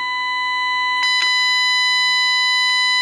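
A steady, buzzy trapezoidal-waveform electronic test tone rich in harmonics holds unbroken, with a couple of brief clicks near the start.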